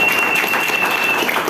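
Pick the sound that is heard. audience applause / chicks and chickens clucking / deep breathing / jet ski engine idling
audience applause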